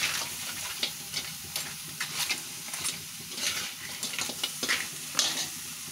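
Cheesy crab in garlic sauce is stirred in a sizzling pan, with repeated scraping strokes over a steady frying crackle, close and fairly quiet.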